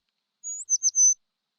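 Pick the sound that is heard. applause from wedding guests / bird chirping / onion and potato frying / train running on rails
bird chirping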